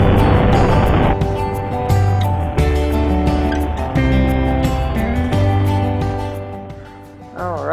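A Hawk 250 motorcycle on a small hometown road gives a close, loud engine drone whose pitch climbs and drops in steps as the rider shifts gears, then dips near the end.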